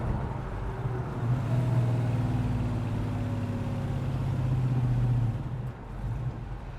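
Big-block 440 V8 in a 1968 Dodge Charger rumbles steadily from inside the car while driving, a deep continuous engine drone with slight pitch rises and a brief dip near the end.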